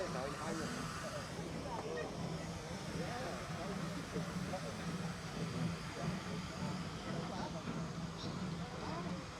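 A Ruston Proctor & Co. steam traction engine ticks over at a Gloucestershire steam rally, a steady low rumble and hiss running unbroken throughout, with people talking over it.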